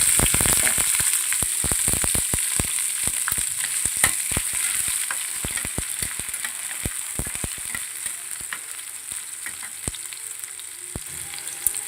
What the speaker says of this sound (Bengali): তেলটা গরম হয়ে গেছে বন্ধুরা। এখন আমি এর মধ্যে দিয়ে দেবো কুচনো পেঁয়াজগুলো।